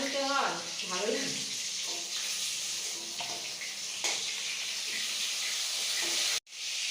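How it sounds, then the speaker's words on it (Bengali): Pointed gourd pieces frying in a pan give a steady hiss and sizzle close by, with a voice speaking over it before the sound cuts out briefly near the end. "এখানে এবার পটলগুলো ভাজা করছি।"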